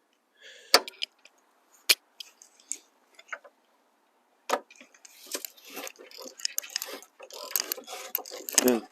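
Metallic clicks and sharp snaps come from wrenching bolts loose on a Jeep Wrangler TJ winch mount, sparse at first, then a denser burst of ratcheting and clattering tool noise, close and quiet.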